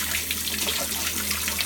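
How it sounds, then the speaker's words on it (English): Hottest tap water running from a kitchen faucet into the sink, a steady, close, full hiss and splash lasting the whole stretch, with no talking. "Let the sink run just a minute there."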